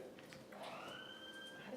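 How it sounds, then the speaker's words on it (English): An electronic building alarm sounds in a selectboard meeting room, a faint rising and sustained tone over quiet room noise. "That's our alarm."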